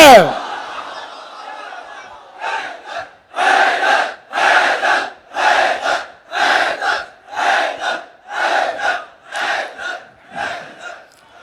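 Large congregation at a Muharram majlis gathering in an imambargah chanting religious slogans in unison, about nine loud rhythmic call-and-response bursts evenly spaced, each swelling and dropping off, with a brief voice at the start.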